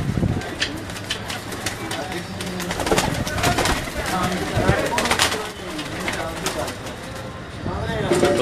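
Phanniyar breed pigeons at a loft coo in a dense, steady chorus close by, with occasional flutters, while people talk over them.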